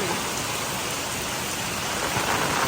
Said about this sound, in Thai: ไม่รู้จะได้ยินเสียงหรือเปล่าเนี่ยฝนตกหนักมากอ่า